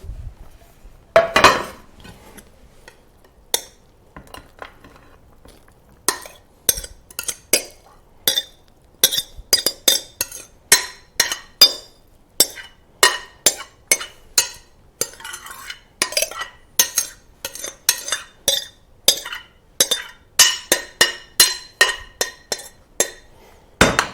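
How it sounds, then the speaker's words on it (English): Bread and sausage dressing is scraped and spooned into a baking pan, with a long run of sharp metal-utensil clinks and knocks against the pan, sparse at first and then rapid and steady, close and loud with no talk. "So now we'll transfer it to our baking pan."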